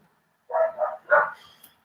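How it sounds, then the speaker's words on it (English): Neighbor's dogs kitty-corner next door bark in a quick cluster of three fairly loud, slightly distant woofs, with a fainter yip trailing just after. "my neighbor's dogs kitty corner to me. They're always barking"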